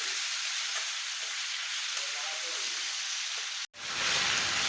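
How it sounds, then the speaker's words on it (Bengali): Chopped onions fry in a pan for a spicy Bengali egg curry, giving a steady, close sizzling hiss that cuts out abruptly for a moment near the end before resuming. "পেঁয়াজ কুচিগুলো দিয়ে ভালো করে ভেজে নেব।"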